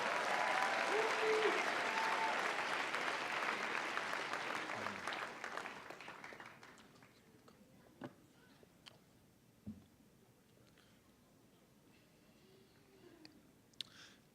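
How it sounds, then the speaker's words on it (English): Audience applause at a high school commencement ceremony, a warm wash of crowd clapping that fades out after about seven seconds, followed by a few scattered late claps in a quiet hall. "a round of applause for the class of 2018 and 2019."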